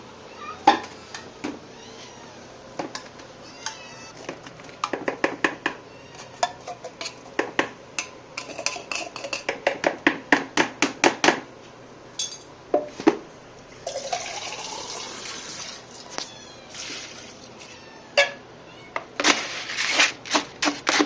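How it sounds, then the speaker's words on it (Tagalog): Cat food being mixed in bowls, a spoon or utensil clinking and scraping against the dishes in irregular bursts of sharp taps, with some wet stirring sounds between, close and alone without talk. "Halo lang natin yung pagkain para silang lahat ay makakakain."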